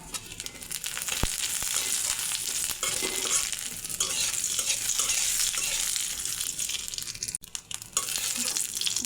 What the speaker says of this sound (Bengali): জিরাটা ভেজে নেব।